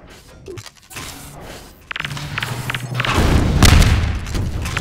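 Rocket explosions in the Half-Life 2 Deathmatch video game, with a couple of sharp thumps and then a loud, booming, rumbling blast that fills the close foreground.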